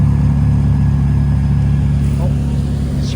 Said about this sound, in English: Oh, surprise CGT arrival there.